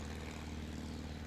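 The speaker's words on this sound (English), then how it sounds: "Once you're in the air, of course, the tail dragger is just like any other airplane." Faint, steady drone of a tail-dragger light airplane's propeller engine during lift-off and climb-out, a low continuous hum heard from a distance with no voices.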